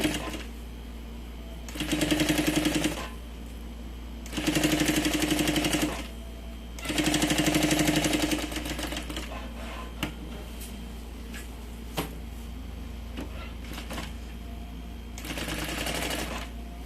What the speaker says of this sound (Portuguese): passar uma costurinha bem na beiradinha. Em volta todinho.